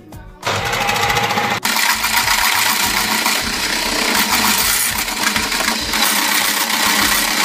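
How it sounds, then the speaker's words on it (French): An electric whisk whips whole liquid cream into chantilly, a loud, steady motor whir with rattling beaters in a bowl, running continuously after a brief start, close and alone. "Là on va fouetter notre crème liquide entière en chantilly."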